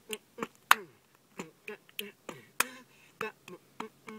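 Body percussion in a steady pattern: crisp finger snaps in pairs alternating with sharp hand claps, repeating close and clear at an even tempo, with faint vocal tones woven through.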